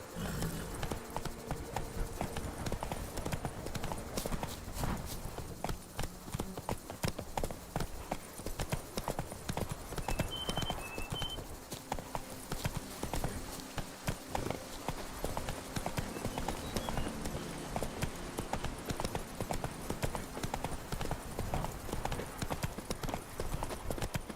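Roach, a horse in The Witcher 3, canters with a rapid, steady clip-clop of hooves that runs throughout at close range, with no voice over it.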